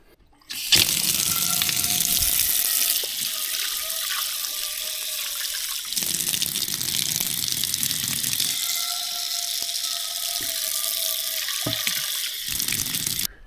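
Water runs steadily and loudly from a campground tap at Lamanche Provincial Park while dishes are washed, with a few brief breaks and changes as the flow is interrupted and resumes.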